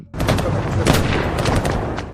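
A rapid, loud burst of gunfire, shots running together in a dense volley for about two seconds.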